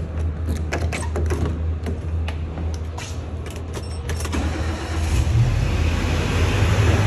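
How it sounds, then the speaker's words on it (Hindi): Car being driven out on the way to a friend's wedding, a low steady engine rumble with scattered clicks and creaks early on, growing slightly louder toward the end as it pulls away. "गाड़ी निकाल लूँ, बहुत देर हो रही है।"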